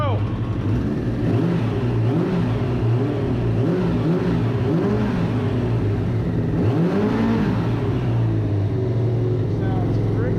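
A Suzuki RF900 motorcycle with a newly fitted engine idles steadily just after its first start, a constant low engine drone throughout with slight wavering, while a voice talks over it.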